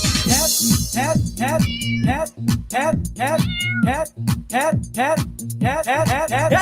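Cats meow over and over in a fast, rhythmic, almost chanted run of short rising and falling cries, loud and close, layered with a voice-like track that may be sung imitation.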